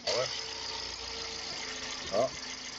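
A car engine runs steadily with a mid-range hum that briefly shifts in tone twice, undergoing mechanical work on an older car with an empty pre-catalytic converter and a new lambda sensor.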